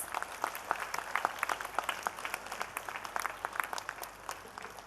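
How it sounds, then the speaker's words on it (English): Applause from an audience at a school function, a fairly faint, distant wash of clapping with a steady texture throughout and no speech over it. "I think she deserves a huge round of applause."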